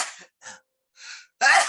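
A person sneezes, with a couple of short breathy intakes and puffs leading up to one louder, sharp burst at the end.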